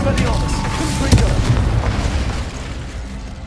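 A Confringo fire-blast spell in Hogwarts Legacy bursts with a loud, rumbling boom that stays dense and crackling throughout, while a voice casts spells over the blast.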